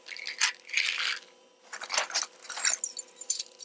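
House and car keys jangle and rattle in bursts close by, a brief jingle, a short pause, then a longer stretch of metallic shaking and clinking.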